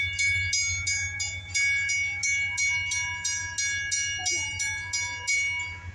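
A railroad crossing bell clangs in a fast, even rhythm at close range while an eastbound CSX freight train passes, its low rumble running steadily underneath.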